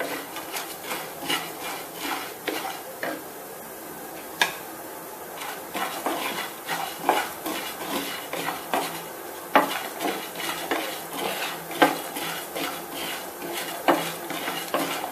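Biryani masala spices being stirred and dry roasted in a pan, with steady scraping of a spoon against the metal and small clinks repeating throughout, close and fairly quiet, no talking.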